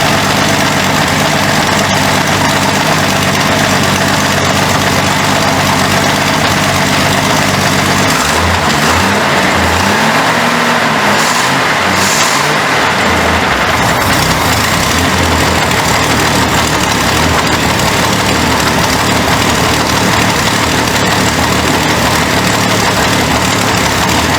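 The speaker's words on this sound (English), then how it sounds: "A little kicking in the motor, might be a lifter." The engine of a previously abandoned 1967 Ford Mustang runs loud and steady, with a possible lifter tick. A rough idle drone fills the whole stretch, and the engine note shifts briefly partway through.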